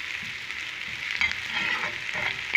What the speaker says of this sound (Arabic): لازم نقليوه مليح مليح، هاو حبيباتي ما نخليوش يتحرق